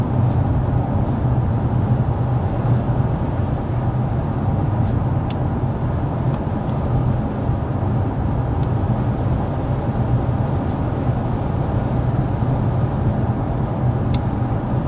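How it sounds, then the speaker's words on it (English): Cabin of a 2025 Toyota Camry SE cruising at 55 mph with the fan on its lowest speed, a steady low road and tire rumble with faint wind hiss, unbroken and free of talk. "now that we're speeding up here, I do want to get a sound level reading going 55 miles per hour"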